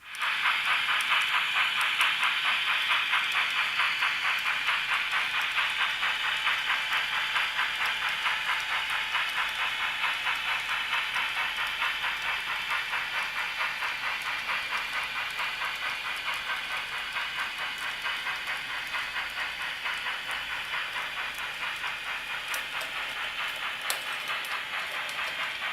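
Model railroad trains run continuously in a home train room, a steady close hiss and rolling clatter with faint rhythmic clicking that lasts throughout, with no voices.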